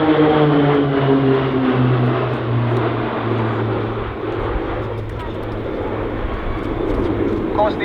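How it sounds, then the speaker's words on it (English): A Pilatus PC-9A propeller aircraft flies a Royal Australian Air Force Roulettes aerobatic display at RAAF Base Point Cook. Its loud, steady engine-and-propeller drone holds throughout, with a layered harmonic whine that slowly shifts in pitch. "the aircraft that we're flying today is the Pilatus PC9A aircraft"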